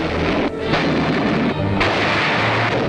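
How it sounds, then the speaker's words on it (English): Artillery shell fire from French forces in the Indochina war, recorded in a 1953 newsreel, heard as a loud, continuous roar of rumbling blasts with a couple of brief dips, and no talk over it. "The wounded must travel with the French forces, who now rake the communist Viet Minh rebels with shell fire."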